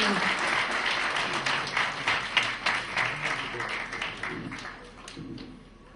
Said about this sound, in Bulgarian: Аплодисменти за Любен Дюнистин.